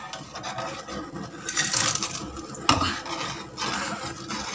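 Fried pakoras are dropped into a pot of kadhi curry, with spoon scrapes, soft plops and clinks of cookware, close and moderately loud.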